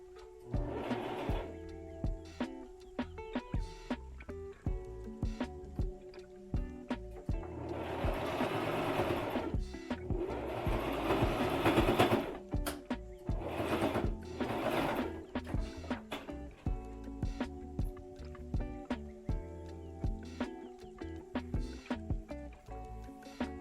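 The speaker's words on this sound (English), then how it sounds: "So we're gonna start sewing now." A sewing machine hems a thrifted 1990s Chanel two-piece garment, running in several bursts of moderate, steady whirring, with quieter handling sounds between the runs.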